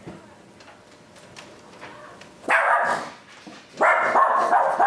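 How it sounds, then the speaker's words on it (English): Several dogs bark outdoors in two loud, sustained bursts of overlapping barking, preceded by fainter yips and background noise, with no talk over it. "Dogs are barking."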